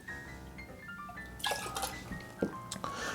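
Fresh low carb lemonade pours into a glass in faint splashing bursts, with a couple of louder sloshes over quiet background music and no speech.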